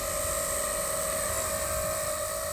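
A DJI FPV drone struggling in flight, its motors giving a loud, continuous high-pitched whine and buzz that holds steady throughout with no pauses.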